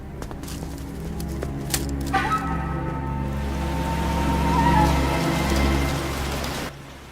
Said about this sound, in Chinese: 这天下雨了